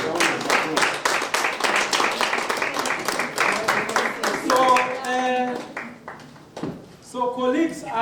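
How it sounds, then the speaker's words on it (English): An audience claps at an alumni chapter induction, a run of distinct sharp hand claps in quick rhythm for several seconds, then tones and a voice break in as the clapping thins out. "a big round of applause"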